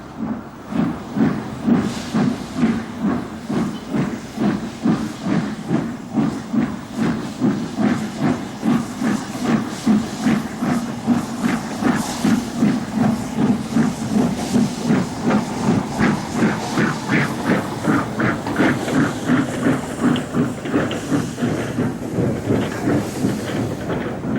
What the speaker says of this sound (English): this is the locomotive Flying Scotsman